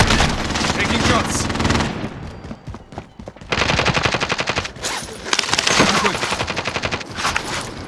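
Rapid automatic gunfire rattles loudly in a shooter video game, coming in long, dense bursts with a short lull between them and voices talking underneath.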